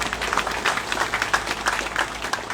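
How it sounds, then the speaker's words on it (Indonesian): A crowd applauds a church synod chairman at a groundbreaking ceremony for a military church, brisk scattered clapping from many hands lasting a few seconds, moderately loud and unbroken. "Tepuk tangan untuk beliau."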